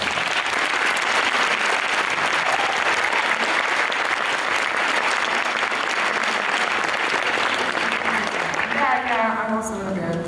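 Loud, dense applause from the audience at a Moogfest 2014 talk with a guest, sustained throughout and fading near the end as a voice starts speaking over it.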